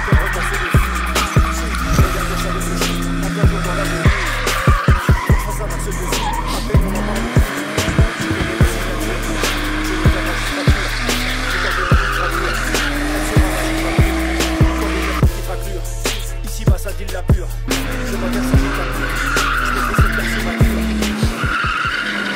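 A German car on a tire test skids repeatedly, its tires squealing loudly in long wavering howls while the engine revs, with sharp knocks and thumps scattered throughout.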